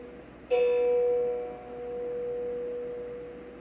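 A single plucked low sol note on a two-string phin pia rings out clearly and sustains, its bright tone fading into a soft, lingering hum.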